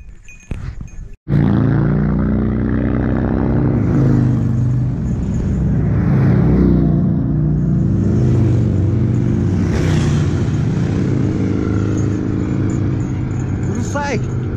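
Road traffic on a mountain route toward Mount Gomadan in Kansai, with cars and motorcycles passing and a steady engine rumble that swells and recedes throughout, heard under people talking.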